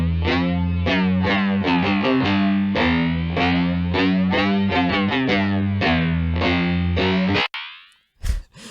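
Electric guitar played through a Dubstation 2 delay pedal on its intergalactic planetary setting, a busy run of plucked notes smeared with warbling, phaser-like modulated repeats, loud and steady for about seven seconds before cutting off into short crackles.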